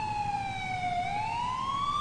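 A wailing ambulance siren in GTA4, its pitch sweeping slowly down then back up as it plays loud and steady, close by over a low background rumble, with no talking.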